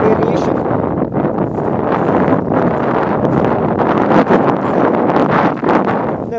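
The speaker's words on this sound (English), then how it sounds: "I'm not happy with that, it's too gusty." Gusty coastal wind at Tayport during paraglider wing handling, roaring loudly and continuously against the microphone in uneven buffeting surges.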